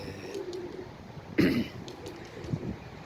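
Flying pigeons kept for tournament racing coo softly in low, throaty calls nearby, broken by one sharper, cough-like burst in the middle.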